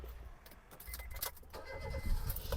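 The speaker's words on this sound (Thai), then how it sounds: "เดี๋ยวเรามาดูในส่วนห้องเครื่องแล้วฟังเสียงเครื่องยนต์กันบ้างนะครับ" Keys jangle and clatter, then a 2008 Honda City engine cranks and catches on the first try, rumbling up loudly near the end.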